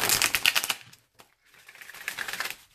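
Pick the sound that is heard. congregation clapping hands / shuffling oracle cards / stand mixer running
shuffling oracle cards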